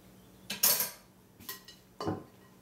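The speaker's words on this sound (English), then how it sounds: "you want to stir while you add, because you want to make sure all the bread is coated well with the eggs and the milk" Spoon clinking against a bowl while stirring bread pudding mixture of bread, eggs and milk for a caramel cream cheese bread pudding: three short scraping, clattering bursts, close and moderately quiet.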